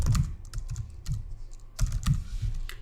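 Typing on a computer keyboard while writing code: a few quick bursts of sharp clacks separated by short pauses, close and fairly quiet, with no talk.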